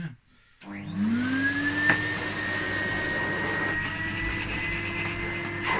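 A spare Hoover vacuum cleaner from a loft starts up and settles into a steady, loud motor whine with a rising pitch as it spins up, then runs evenly.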